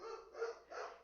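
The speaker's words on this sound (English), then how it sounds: "I'm sorry if you could hear my dog chiming in here in the background." A dog barks a few times in the background, three soft, muffled yips in quick succession.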